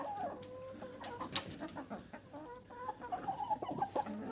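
A sick chicken clucks steadily nearby, a run of soft repeated clucks with a few sharper calls, set against quiet outdoor background noise in frosty winter weather.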